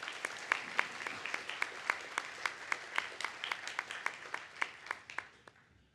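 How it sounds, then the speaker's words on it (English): A conference audience at a security and privacy symposium opening claps in a sparse, rhythmic pattern. Individual sharp claps are distinct and moderately near, and the applause fades out over six seconds. "So a big round of applause for all the organizing committee"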